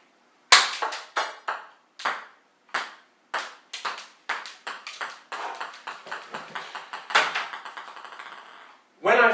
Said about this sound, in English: When I fired the BB at the electron, you'll note that it moved out of its allowed energy level and made a noise